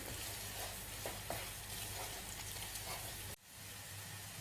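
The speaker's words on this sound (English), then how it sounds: "while the onions are frying" A steady sizzle of onions and garlic frying in a pan for paella, constant and fairly close, with a few faint stirring knocks before the noise briefly cuts out.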